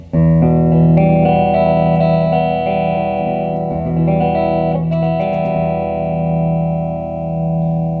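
An electric guitar on the neck pickup through effects rings out sustained, thick chords with rich harmonics, loud and close, with a slight distorted, chorus-like shimmer and a few strums changing the notes.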